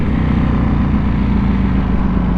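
Ducati Panigale V4 motorcycle with stock exhaust, its engine giving a steady, dense low rumble while riding, continuous and fairly loud with no break.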